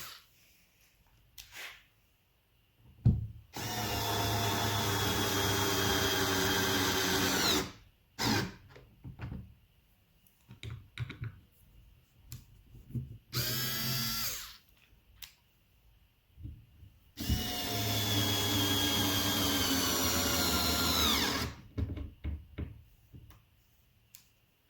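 Power screwdriver driving painted screws into a sliding barn door, with two long loud whirring bursts of several seconds each, separated by shorter taps, clicks and a brief rising whine.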